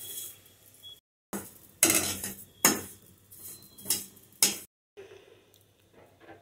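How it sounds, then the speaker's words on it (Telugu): Cumin seeds dry-roasting in a pan, with a spatula scraping and clinking against the metal in several sharp, close knocks separated by brief pauses and quiet stretches. "ఇప్పుడు అదే ప్యాన్లో జీలకర్ర కూడా వేసుకుని బాగా వేయించుకోవాలి"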